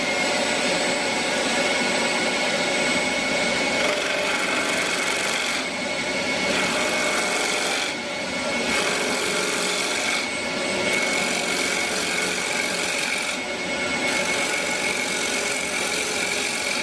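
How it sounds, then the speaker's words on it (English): A wood lathe roughs out a wooden sanding disc, giving a continuous loud raspy scraping and whirring with several brief dips as the cut pauses, close and steady, no talk. "Okay, so now I'm just going to rough out the sanding disc."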